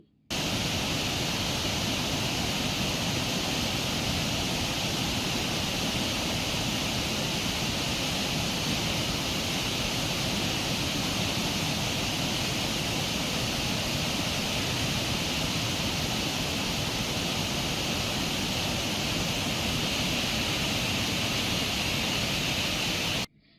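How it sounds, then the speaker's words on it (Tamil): A waterfall at Kovai Courtallam in flood after heavy rain, a dense, unbroken roar of rushing water that holds steady and loud from start to finish, with no voices. "கனமழை காரணமாக கோவை குற்றாலம் அருவியிலும் வெள்ளப்பெருக்கு ஏற்பட்டது"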